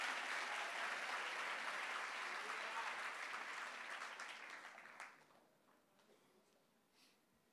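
Church congregation applauding during a live worship service, a steady dense wash of clapping that fades out toward the end, leaving quieter room sound.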